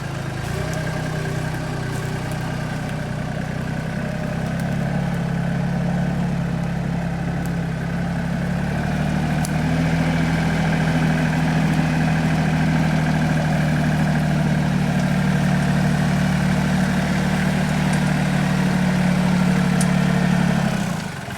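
Tractor engine idling on a Portuguese homestead, a loud, steady low throb with a constant hum that holds evenly throughout without a break, with no voices over it.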